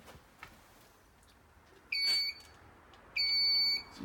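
Infraready laser doorway alarm triggered twice as its beam is broken, each time a loud, steady high-pitched electronic beep lasting about half a second, then a second one, in a quiet indoor room.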